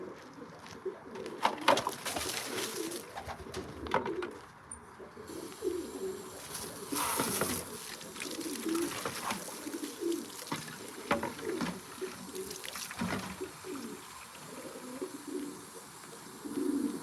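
Pigeons coo steadily inside a loft, the soft throaty calls repeating at moderate distance, with occasional rustles and knocks from the birds and their surroundings.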